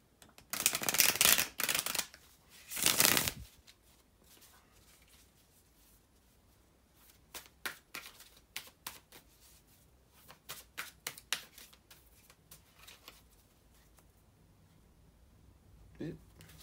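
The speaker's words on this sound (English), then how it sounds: "bear with me a second, guys, to shuffle the tarot cards" Tarot cards being shuffled by hand in two loud riffling bursts near the start, followed by softer scattered card taps and slides, ending with a faint voice.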